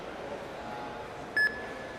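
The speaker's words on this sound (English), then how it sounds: "After beep sound." A robot competing in the RoboCup 2024 @Home league emits one short, clear electronic beep, a brief pure tone standing out over a quiet room background.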